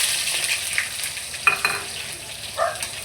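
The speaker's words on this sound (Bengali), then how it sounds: "এবার ভালো করে নাড়াচাড়া করলাম" Chopped onion frying in oil with dried red chillies and bay leaf, loud close sizzling with scraping stirs and a few clinks of the spoon against the pan.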